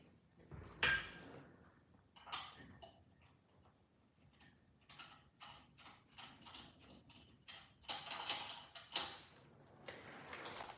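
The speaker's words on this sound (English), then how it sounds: "I'm just screwing these screws type things in" Screws being turned by hand into a drum module, a faint, irregular series of small ticking clicks and taps that grow busier and louder near the end.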